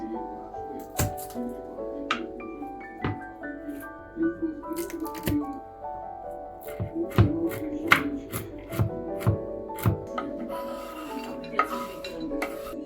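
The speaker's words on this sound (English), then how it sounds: "Now guys, I'm going to chop some walnuts." Walnuts are chopped on a board with a run of quick knife knocks and scraping rubs. The sound is moderately close and sits under light background music.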